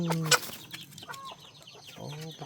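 Chickens cluck near a Thai rural home, short clucks and squawks up close with a louder burst early on, mixed with background voices.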